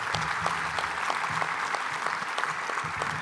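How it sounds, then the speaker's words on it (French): Steady applause from a crowd fills a conference hall, continuous clapping of many hands at even loudness throughout. "on peut les applaudir"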